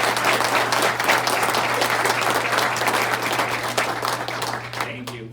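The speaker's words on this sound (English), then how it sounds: "I just want a round of applause for all the counselors and people in the community." Sustained applause from a meeting audience honoring school counselors and community members, dense steady clapping throughout with a constant low electrical hum beneath, tapering off at the end.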